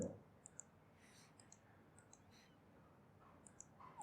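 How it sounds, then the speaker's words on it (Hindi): A computer mouse clicks a few times, faint and sharp, while working in AutoCAD software, over a quiet room hiss with no talk. "मैंने क्लिक किया इस पर"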